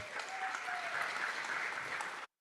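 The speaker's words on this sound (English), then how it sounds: "One more round of applause for all these students." Steady audience applause at a school board meeting honoring students, a dense wash of clapping hands that holds evenly for about two seconds and then cuts off abruptly.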